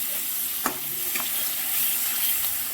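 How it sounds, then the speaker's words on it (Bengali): Tomato paste seasoned with turmeric and salt fries gently in oil in a home kitchen pan, a soft steady sizzle with a couple of sharp stirring scrapes. "এবার টমেটোটা হালকা করে তেলের মধ্যে ভেজে নেব।"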